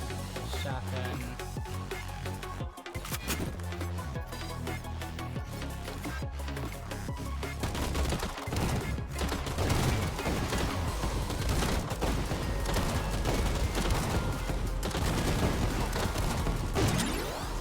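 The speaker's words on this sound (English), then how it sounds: "Shotgun." Shotgun blasts and other gunfire in the video game Reborn Evil, repeated sharp bursts over a dense, continuous layer of game noise and music.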